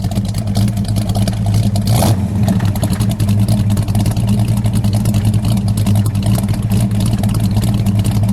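Idling 1973 AMC Javelin with a 401 cubic inch V8 and four-speed, a loud, steady, deep rumbling exhaust drone heard up close, with one brief burst of noise about two seconds in.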